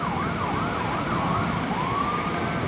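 An ambulance siren, heard at night from a train station, yelps in rapid up-and-down sweeps, then shifts to a longer rising wail, heard at a distance over ambient noise.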